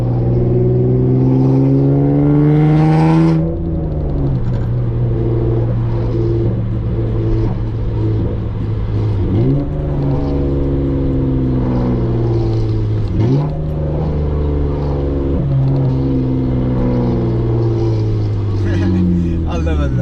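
A Honda Accord V6 with a J-series engine and a loud exhaust drones while driving, its tone rising through the revs, dropping sharply at each shift, then climbing again in a continuous, close rumble.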